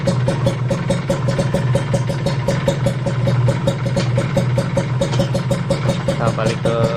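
A Kawasaki Ninja 150 RR motorcycle engine runs steadily at close range, a constant buzzing drone with a rapid pulse, with voices heard faintly in the background.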